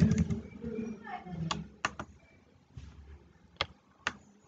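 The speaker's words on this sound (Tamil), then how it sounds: "முகவரி வந்து என்னோட முகவரி ஃபுல்லாக டைப் பண்ணுறேன்" Someone types an address on a computer keyboard, with soft scattered keystrokes and a few sharper clicks spaced apart, close by and faint, while a voice speaks over the start.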